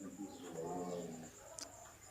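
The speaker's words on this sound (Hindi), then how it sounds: "ये कबूतर भी इनके पाँव में घूम फिर रहे हैं।" Soft, low pigeon cooing close by on a cattle farm, with a brief chirp near the end over faint background noise.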